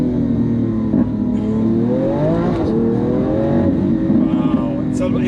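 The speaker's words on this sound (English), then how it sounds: "And you can hear the exhaust as well. Same thing from the Huracan Evo," A Lamborghini Huracan Evo's exhaust drones steadily from inside the moving car, rising and falling in pitch as it accelerates, loud and continuous.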